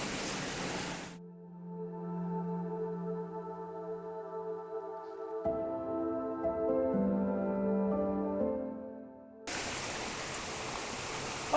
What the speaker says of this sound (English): Then looking up to the waterfall itself.